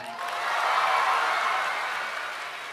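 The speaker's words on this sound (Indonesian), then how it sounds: "Semuanya tepuk tangan." A crowd claps during a public speech, a smooth, even wash of many hands swelling slightly and then easing off, heard at a moderate distance with no voices over it.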